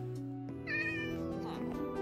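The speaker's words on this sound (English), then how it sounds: "We now have a cat." A cat meows over a steady background hum, giving one drawn-out, fairly close meow with a shorter follow-up cry.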